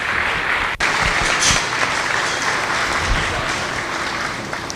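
Audience at a youth goat show applauding showmen leaving the ring, a dense wash of clapping from a crowd in an arena, steady and moderately loud.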